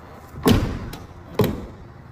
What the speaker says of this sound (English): my passenger door wouldn't latch